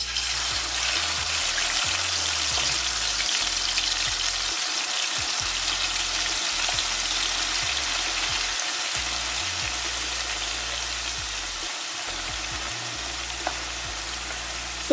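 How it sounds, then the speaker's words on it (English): Ripe plantain pieces fry in hot oil for Ghanaian kelewele, a dense continuous hiss of bubbling oil that stays level and close throughout, with only occasional faint low knocks beneath and no voices. "So we are going to fry our plantain."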